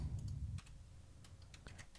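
Soft, sparse clicking of a computer mouse or keys while playing the submarine simulator Sub Command, a dull low rumble at first, then scattered quiet clicks at irregular intervals.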